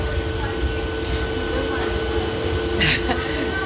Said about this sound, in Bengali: ট্রেন ডুকডুক করে ঢুকছে